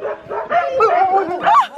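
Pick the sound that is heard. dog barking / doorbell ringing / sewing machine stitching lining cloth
dog barking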